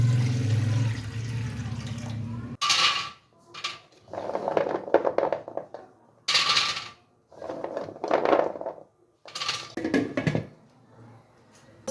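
Water poured from a vessel into a pot fitted with a steaming stand, several separate splashing bursts with short pauses between, close and fairly quiet, with faint clinks of metal.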